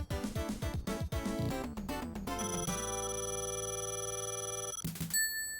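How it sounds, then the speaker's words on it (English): The Sonic 3 1-up jingle plays in the video game Sonic 3D Blast, a bright run of rapid notes settling into sustained held chords and ending with a short high flourish, clear and alone. "Whenever you hear the 1-up sound from Sonic3"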